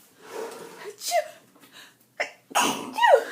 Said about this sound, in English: now I instantly have to sneeze